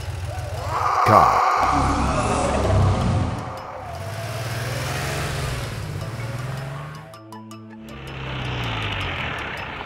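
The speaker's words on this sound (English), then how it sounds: "Car." A cartoon car's engine revs and accelerates in rising and falling sweeps, loud and close, with a short pause before the engine picks up again, no talk over it.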